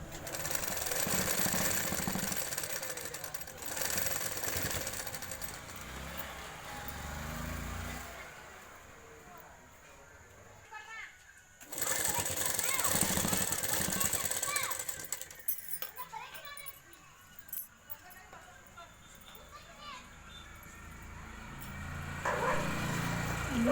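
Sewing machine topstitching a lehenga blouse, running in several sustained bursts with pauses between them, moderately loud and close, with a busy background hum.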